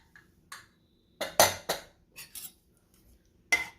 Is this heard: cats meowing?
no